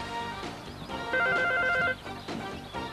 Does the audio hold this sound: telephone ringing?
yes